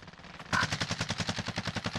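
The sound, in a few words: gunfire in video game Warzone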